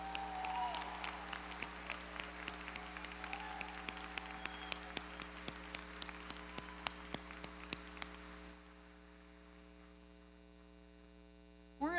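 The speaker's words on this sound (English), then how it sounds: "Let's give our first round of applause to the graduates today." Graduates at a spring convocation ceremony are applauded by the gathered crowd, with sharp scattered claps heard over a constant electrical hum from the hall's sound system before the clapping drops away near the end.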